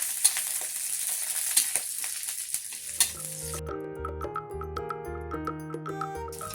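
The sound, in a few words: garlic and dried chillies frying on high flame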